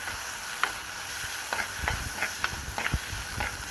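Onion, ginger and tomato sauté in a pan for a Kerala fish curry, making a steady hissing sizzle with occasional soft scraping taps of a spoon stirring.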